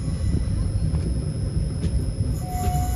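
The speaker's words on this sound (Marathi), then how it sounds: "आपली ट्रेन ही हळूहळू गुंतकल जंक्शनच्या दिशेने चालली आहे" The Tirupati Weekly Express rolls slowly toward Guntakal Junction with a steady, close carriage rumble and rattling, a thin tonal whine appearing near the end.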